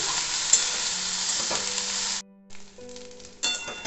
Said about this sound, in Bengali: আলুগুলো দিয়েও আমি একটু ভালোভাবে নেড়ে নিচ্ছি